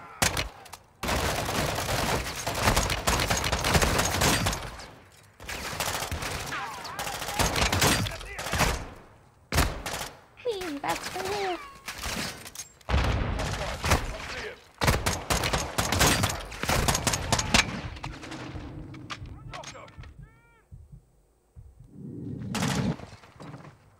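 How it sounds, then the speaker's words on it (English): Modern Warfare 2 gunfire rattles in repeated loud bursts of machine-gun and rifle fire, separated by short pauses, with voices talking over parts of the action. "who the fuck is still shooting?"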